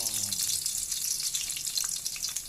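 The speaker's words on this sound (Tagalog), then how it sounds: "peprituin muna natin ang isda sa lutong tsambada" Fish fries in a pan with hot oil, giving a dense, steady sizzle that stays loud and close from start to finish.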